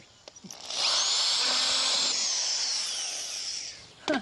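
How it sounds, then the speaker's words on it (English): A power drill fitted with a smaller bit bores into a wooden nest box, a steady loud whine lasting about three seconds before winding down, with a brief clunk at the end. "What we're going to do next is we're going to take this smaller drill bit"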